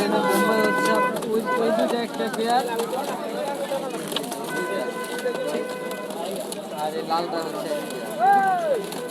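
Pigeons at the Tongi pigeon market in Bangladesh give soft cooing calls under a busy crowd of voices, with market chatter close and continuous throughout.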